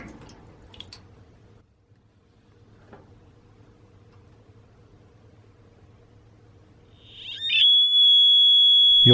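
A battery-powered water leak alarm sitting in an AC condensation overflow pan, first with faint dripping and splashing, then a loud, steady, high-pitched electronic tone that starts and holds to the end.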